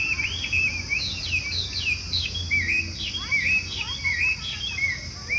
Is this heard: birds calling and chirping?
yes